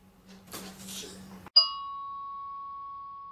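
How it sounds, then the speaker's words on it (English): A single electronic doorbell chime rings out cleanly and lingers as a long, fading tone, preceded by a brief rustle and faint background noise. "Ring the doorbell and run!"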